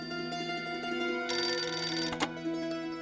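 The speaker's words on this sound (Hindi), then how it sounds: "ये लो, उन्हीं का फोन होगा।" A telephone rings indoors, a steady electronic ringtone that grows brighter and louder partway through, then breaks off briefly before resuming more softly.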